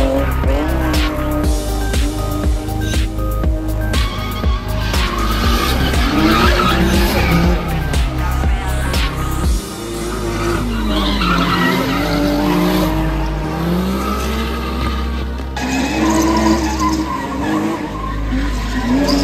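A racecar powered by a streetbike engine drifts, its high-revving engine screaming and changing pitch while the tires skid and squeal loudly and without a break.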